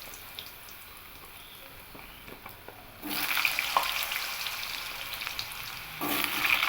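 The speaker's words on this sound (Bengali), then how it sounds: "এবার আমি ওই তেলের মধ্যেই টুকরো করে কেটে নেওয়া আলুগুলো দিয়ে দেব।" Cut potato pieces dropping into hot oil left from frying soybean muitha, bursting into loud, close sizzling and crackling after a quieter start, with a second surge of frying near the end.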